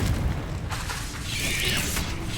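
A booming burst from the Confringo explosion spell in a Hogwarts wizarding video game: a heavy low blast, then a brighter crackling flare a moment later, with no voices.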